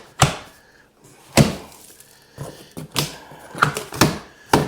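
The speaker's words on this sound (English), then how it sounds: "pop the staples." Staples being popped out of a cardboard shipping box for an Engwe L20 2.0 electric bike, a series of sharp loud cracks and snaps at irregular intervals, close up, with quiet handling noise between them.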